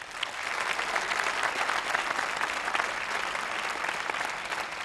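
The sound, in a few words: studio audience applauding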